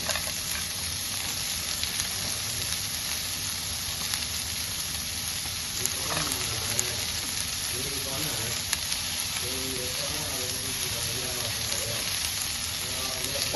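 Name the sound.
cashews and onions sautéing in a pan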